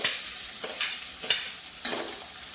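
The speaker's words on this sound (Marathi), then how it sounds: "आता ह्याच्यामध्ये मी ज्या बाकीच्या भाज्या घेतलेल्या आहेत त्या सगळ्या घालून घेते. टोमॅटो घालून घेऊया सगळं." Onion, tomato and mixed vegetables frying and being stirred in a pan, a continuous close sizzle broken by four regular scraping stirs of a spoon.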